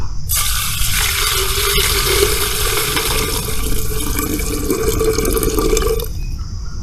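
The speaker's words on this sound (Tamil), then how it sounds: "இப்போ ஒரு லிட்டர் தண்ணியை இதில் சேர்த்துக்கலாம்" About a litre of water pours into a mixture of neem oil and soapnut for an organic liquid fertilizer and pesticide, a steady splashing stream that runs for around six seconds and then stops abruptly.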